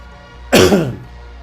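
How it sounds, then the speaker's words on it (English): A single harsh cough, close and loud, bursting out against a quiet background and trailing off within about half a second. "I'm sick of this fucking cough, bro"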